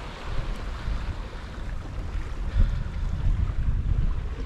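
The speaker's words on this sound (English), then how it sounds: "Oh, wind's dropping." Sea wind rumbling against a microphone while fishing off Brixham in Torbay, South Devon, a continuous low buffeting roar with waves and boat noise beneath, close and fairly loud with gusty swells and no voices.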